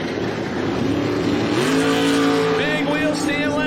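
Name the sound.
drag race cars, twin turbo Camaro ZL1 and Olds Cutlass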